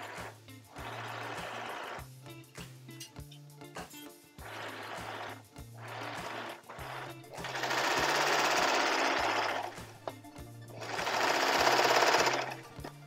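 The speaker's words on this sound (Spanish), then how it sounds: "Y aquí terminamos de coser la manga." A sewing machine stitches a blouse sleeve in repeated bursts, its rapid needle chatter and motor hum starting and stopping several times, with longer, louder runs toward the end.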